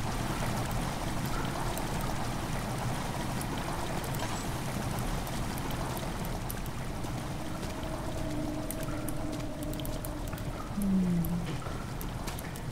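Steady rushing water pours into a stone chamber in the horror game Amnesia, a continuous even flow with faint trickles and no talking.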